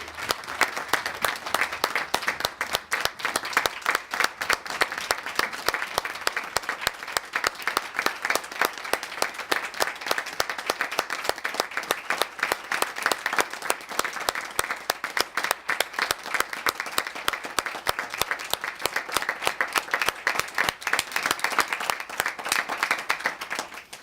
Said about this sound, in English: Mr. Farber and Ms. Lauer, we applaud you with enormous gratitude